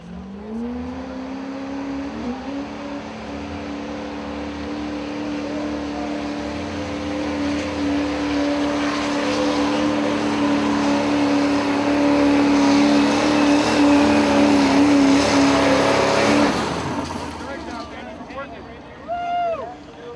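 A Chevy Silverado diesel truck at a street legal diesel truck pull at Lamoille County Field Days, its engine droning loud and steady under strain for about fifteen seconds, then cutting off abruptly, with crowd noise and voices nearby.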